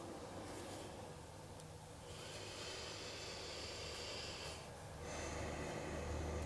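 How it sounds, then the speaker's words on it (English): Slow, audible breaths are drawn in and let out through the nose during a yoga forward fold, soft and close against a steady background hiss. "Breathing here in our forward fold."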